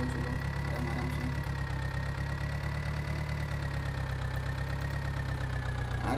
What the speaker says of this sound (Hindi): हमारा ट्रैक्टर भी रेडी है। तो चलो डायरेक्ट अभी लेके जाते हैं हम इसको खेत की तरफ